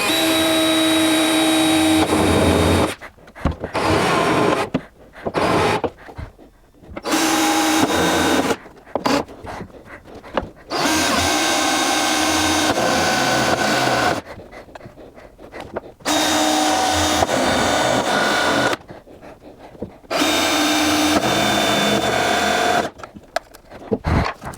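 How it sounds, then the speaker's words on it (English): Close, loud bursts from a drill bore holes in a GT40 kit car rear body panel. The bursts are repeated, separated by short pauses, with a buzzing, stuttering tone and no talking. "look to drill a hole at each end"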